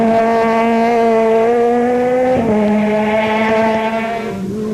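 A Volkswagen Polo rally car on a gravel rally stage, its engine howling loud and close at high revs, pitch climbing steadily, then dropping sharply at a gear change before rising again.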